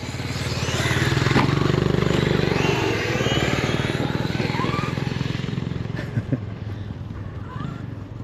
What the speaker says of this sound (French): Moto.